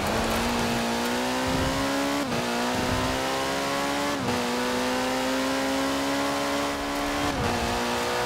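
A 1985 Ford RS200 Evolution rally car in Forza Horizon 4, its engine revving hard and climbing steadily through the gears, with brief gaps at each upshift, loud and close throughout.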